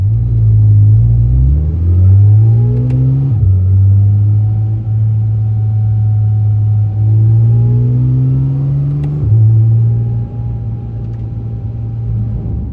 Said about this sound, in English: accentuated by the Valvetronic exhaust, so it's like the booming is even more present